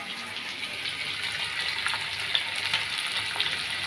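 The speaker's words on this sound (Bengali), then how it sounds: "এরপর এখন আমি ভাজা দিচ্ছি" Whole hilsa fish fry in hot oil in a home kitchen, giving a steady, close sizzle and crackle with a few small pops and no talking over it.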